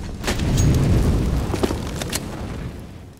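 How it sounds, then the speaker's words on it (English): A flashbang grenade goes off in the game CS:GO with a loud, close boom and a rumbling low tail, followed by a few sharp clicks and pops as the blast fades. "Deploying flashbang."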